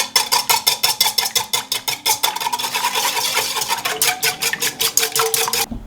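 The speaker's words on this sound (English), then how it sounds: "Alright, we're going to give these a quick whisking." Four eggs are whisked quickly in a bowl as the first step of an apple pumpkin bread batter, a fast rhythmic clatter of repeated strokes that runs close and continuous, tightening into a quicker beat near the end.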